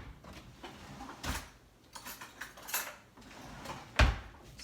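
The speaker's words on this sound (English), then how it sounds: "just give it a bit of a stir." Sourdough starter being stirred in a jar: a series of irregular scraping knocks and clinks of utensil against glass, with one sharper tap near the end, close and fairly quiet.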